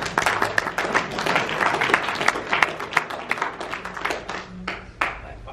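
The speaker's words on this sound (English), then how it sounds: "That always gets a round of applause whenever I say that." A lively round of audience applause at a political talk, many hands clapping loudly and unevenly, tapering off toward the end.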